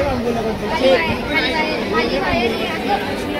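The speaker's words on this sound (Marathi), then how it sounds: "तर कॉलेजमध्ये गर्दी बघू शकता" A dense crowd chatters at a college culture day celebration, overlapping voices forming a loud, close hubbub throughout.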